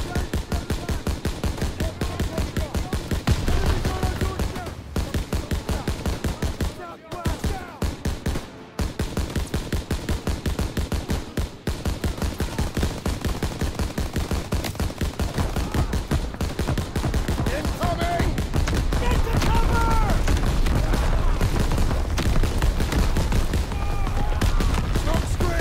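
Dense, continuous rifle and machine-gun fire in a WW2 video game battle, rapid loud bursts overlapping with booms and brief gaps, while voices shout commands over the shooting.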